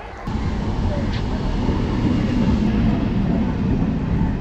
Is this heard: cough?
no